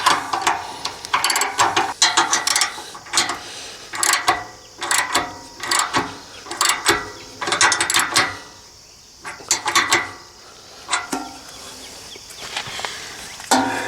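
A ratchet strap being tightened on the front of a Versahaul motorcycle hitch carrier holding a Honda CRF250L on a Jeep Wrangler: repeated loud ratcheting clicks come in bursts with short pauses between pulls, close and clear.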